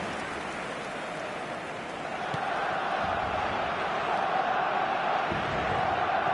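Simulated stadium crowd in an eFootball match on PS5, a broad steady roar of many supporters that swells slightly partway through, continuous and loud with no clear single voices.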